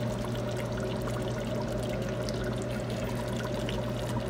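Water poured steadily into a pot of fish miso soup with basa steak fish, a soft continuous trickle under a low hum, faint and without talk.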